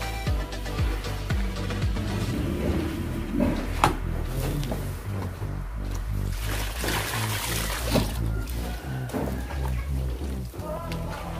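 Cattle feed mixed with water is stirred by hand, producing close wet scraping, sloshing and knocking sounds in an uneven rhythm with occasional louder thumps.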